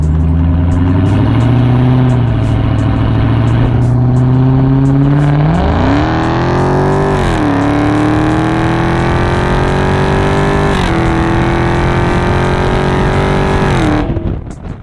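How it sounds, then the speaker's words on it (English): A 2017 Dodge Charger Hellcat engine of over 700 horsepower revs and pulls hard, its pitch climbing through gears, loud and close with no talking. "There's a nice little pull for you guys just to hear that 700 plus horsepower engine stretch its legs a little bit."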